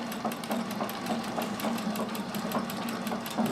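A Singer 201K sewing machine runs steadily at its longest stitch length, a fast even mechanical patter of needle strokes with a constant motor hum, close and continuous with no talking.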